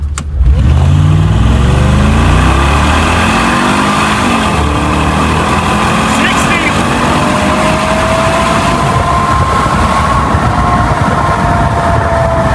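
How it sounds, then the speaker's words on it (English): A Mercedes G55 G-Wagon (W463) with newly upgraded shocks drives along, its engine a loud, close, steady drone with revving and road rumble throughout, and no talking. "this G-Wagon really drives really smooth"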